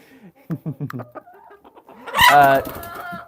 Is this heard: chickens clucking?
yes